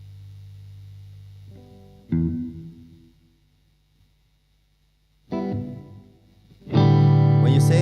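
Electric guitar played through distortion during a rehearsal, sustained overdriven chords struck in separate bursts with pauses between, the last one loudest and ringing out.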